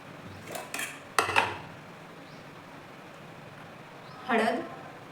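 A spoon scrapes and clinks against a bowl while moong dal batter is mixed with vegetables and spices, in a few short bursts with quiet pauses between them. A person talks through it.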